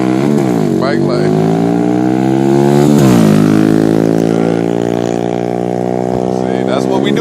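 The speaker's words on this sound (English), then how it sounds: "Boys ride them bikes." Small motorbikes ridden by boys out in the country, engines revving up and down nearby with rising and falling pitch, loud and continuous throughout.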